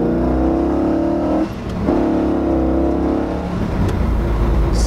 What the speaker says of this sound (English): Let's see what a tri-power will do.